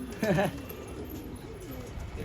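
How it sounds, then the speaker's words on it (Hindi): A pigeon coos once, a short warbling call near the start, then the rooftop setting goes quiet apart from faint background noise. "ये बैठा कबूतर,"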